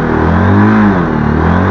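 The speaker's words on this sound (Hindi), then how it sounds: "अभी सबसे बड़ा चैलेंज, अभी गाड़ी स्टार्ट करनी है" A car engine on a mountain road in Ladakh, on the drive from Sonamarg to Leh, turns over and revs up, loud and close, with rising and falling engine tones and a steady low rumble and no talk.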